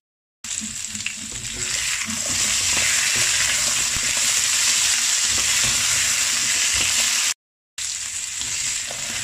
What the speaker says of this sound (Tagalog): Pagkatapos i-fry itong hiniwang potato at saka carrots. Fry lang yan.